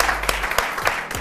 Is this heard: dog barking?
no